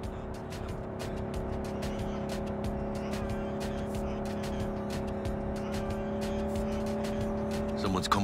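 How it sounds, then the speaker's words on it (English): Car engine droning steadily while driving in the video game Cyberpunk 2077, a constant loud hum with tire noise and scattered clicks, no speech heard. "Drive, Jackie, just drive."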